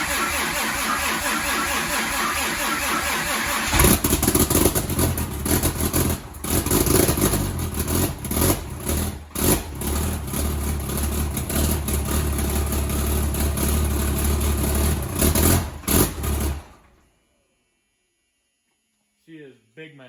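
A high-horsepower drag truck engine idles roughly and loudly during its first break-in run, a dense steady drone with uneven pulses that cuts off near the end, leaving near silence.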